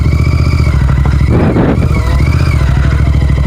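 A Royal Enfield Interceptor 650 motorcycle engine runs steadily and loud while being ridden, a continuous throbbing drone with a brief clattering swell midway.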